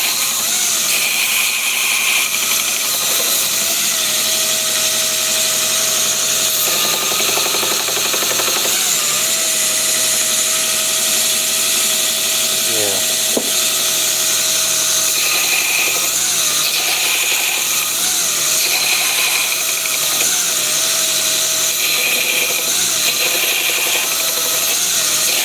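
A belt grinder flattening forged pins runs with a loud, steady abrasive roar and hiss throughout, with faint scraping shifts as the work is pressed against the belt.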